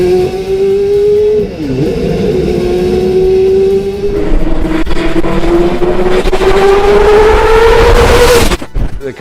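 A 1986 March IndyCar race car on an old set of tires drives by loudly, its engine holding a steady high drone, sagging briefly then rising in pitch as it accelerates before cutting off abruptly near the end.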